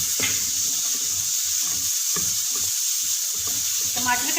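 Whole black peppercorns, cumin seeds, black and green cardamom and cloves sizzle in hot oil for mutton siri, a steady, loud frying hiss with faint stirring clinks.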